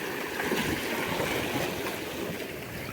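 Strong sea waves washing onto a beach during shore casting, a dense, continuous rushing surf heard close and fairly faint, with no talking.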